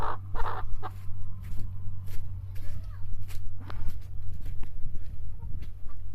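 Chickens and roosters cluck repeatedly close by, a busy flock with intermittent human voices and shuffling footsteps mixed in.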